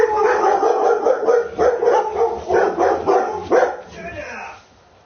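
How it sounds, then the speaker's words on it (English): Dogs bark and yip repeatedly in a busy indoor scene, the barks overlapping with people talking nearby before trailing off at the end. "What are your dogs barking at you, doofus?"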